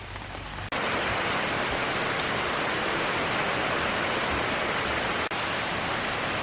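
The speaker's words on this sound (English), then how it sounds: "it's starting to rain a little bit harder" Heavy rain drums on a tent, a loud, dense, continuous patter with no one speaking.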